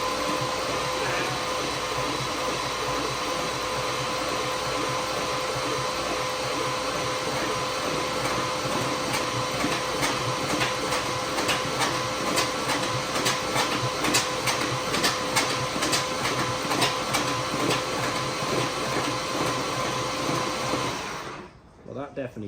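A Jensen Interceptor V8 barn find is cranked continuously on the starter, a steady loud mechanical whirring for about twenty seconds that stops abruptly near the end. No engine catch is evident.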